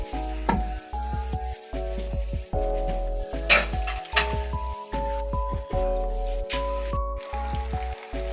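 Two tomatoes frying in a pan for chana daal palao, a steady close sizzle with repeated spoon clinks and scrapes against the pot, no talking.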